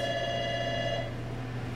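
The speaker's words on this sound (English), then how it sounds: "Sorry about the phone." A telephone bell rings steadily in a kitchen during a cooking show, a continuous electronic trill that cuts off about a second in, leaving a low hum beneath, with no talking.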